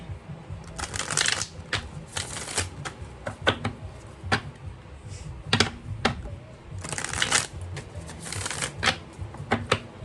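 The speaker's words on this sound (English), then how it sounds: "all these cards are reversed as I shuffle" Tarot cards being shuffled in repeated riffling bursts, crisp flutters separated by brief pauses, close up.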